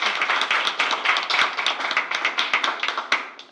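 A small group applauds at a board of education meeting, brief close clapping with individual hand claps clearly separable, steady for a few seconds before tapering off.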